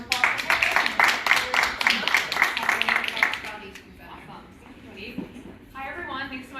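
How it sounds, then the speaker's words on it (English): An audience claps together in a dense burst of applause lasting several seconds, then it fades and a speaker begins talking at a panel event. "I want to give a round of applause for"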